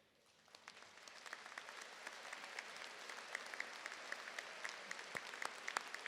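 A commencement audience applauds standing honor students, the clapping swelling from quiet to a broad, sustained patter of many hands, heard from a distance in a large hall.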